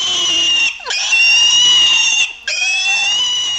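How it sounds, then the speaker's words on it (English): Two loud, shrill squealing screeches, pig-like and piercing, separated by a short gap, close and harsh. "it then let out the most ungodly, inhuman screech I'd ever heard"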